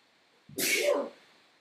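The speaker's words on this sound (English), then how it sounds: "And I have to sneeze." A single loud sneeze close to the microphone, starting with a short intake of breath and ending in a sharp burst.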